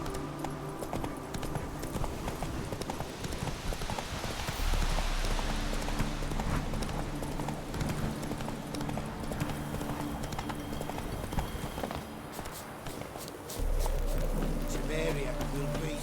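Hoofbeats of Roach, the horse in The Witcher 3, clip-clop steadily at a gallop through the whole stretch, with game music and a voice speaking over them.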